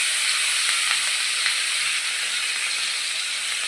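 Ginger, cumin and green chilli sizzle steadily in hot oil for katte pongal, a continuous close hiss with no voices.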